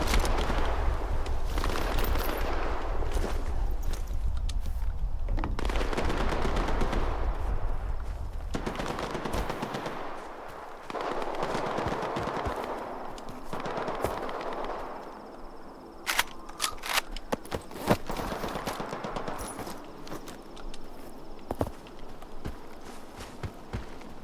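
Gunfire in STALKER 2: Heart of Chornobyl: bursts of sharp shots, some distant and some nearer, scattered irregularly over a loud rumbling background, with footsteps in places and little talk.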